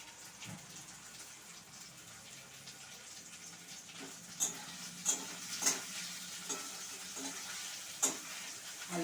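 Onions frying in a pan, lightly cooked to stay crunchy, give a steady low sizzle with scattered crackles and several sharper pops and stirring clicks toward the end, heard close with no talk.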